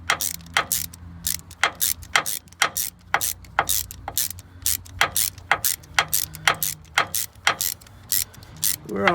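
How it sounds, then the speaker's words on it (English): Hand ratchet clicking in quick repeated bursts while tightening starter bolts on a Ford, likely a Mustang, F-150 or Bronco, close and crisp with steady rhythmic strokes and brief pauses between them. "hold it with one hand and ratchet with the other hand"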